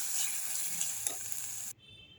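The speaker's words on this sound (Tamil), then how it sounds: "நல்லா கிளறி கொடுங்க" Chana dal, asafoetida and curry leaves sizzle in hot oil while being stirred in a pan, a bright steady crackle with a faint scrape of the spoon, cutting off abruptly near the end.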